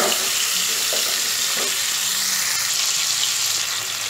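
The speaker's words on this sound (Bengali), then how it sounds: "নাড়াচাড়া করে এটাকে সুন্দর করে ভেজে নিচ্ছি।" Potato and cauliflower pieces frying in hot oil while being stirred, a loud, continuous hiss and sizzle with occasional faint scrapes, close up and without speech.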